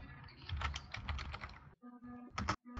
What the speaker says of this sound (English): You seem to be typing.